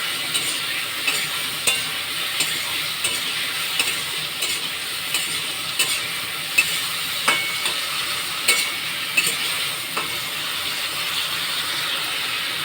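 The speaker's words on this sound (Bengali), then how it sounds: "দিয়ে আবার কষবো।" Fish curry with cauliflower and potato, its tomato and coriander leaves sautéing in a pan: a steady close sizzle with light spatula scrapes and clicks recurring every second or so, no voices.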